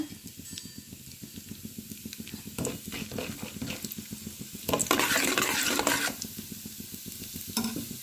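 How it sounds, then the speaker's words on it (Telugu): Soaked raw lentils frying in a pan, stirred with a utensil: a steady sizzle under rhythmic scraping strokes, with a louder, hissing burst partway through. The sound is close and there is no talk. "ఇట్లా వేసుకొని ముందైతే ఫ్రై చేసుకోవాలండి బాగా"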